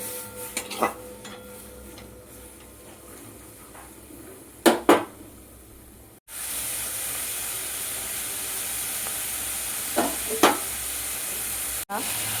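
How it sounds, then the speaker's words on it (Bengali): River snails frying lightly with a little turmeric in hot oil, a soft steady sizzle with a few sharp clinks and scrapes of a utensil stirring the pan, and a louder hiss surging partway through. "সামান্য হলুদ দিলাম, হালকা ভেজে নেব, বেশি ভাজবো না বন্ধুরা, তাহলে গেঁড়িটা শক্ত হয়ে যাবে।"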